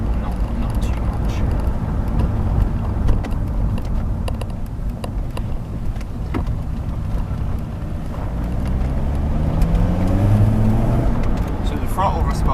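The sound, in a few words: BMW E46 3 Series diesel car driving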